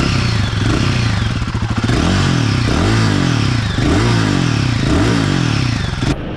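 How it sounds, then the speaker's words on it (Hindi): A 2024 Royal Enfield Guerrilla 450 motorcycle engine idles with a close, loud rumble, then is revved in four repeated blips that rise and fall in pitch before cutting off abruptly. "तो गाइस इसके इंजन का आवाज़ मैं आपको सुना देता हूँ।"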